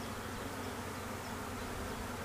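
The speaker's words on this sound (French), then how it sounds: "il y a une abeille qui est coincée" Honeybees buzz continuously and up close around an opened hive during queen clipping, a dense steady droning hum with no voices.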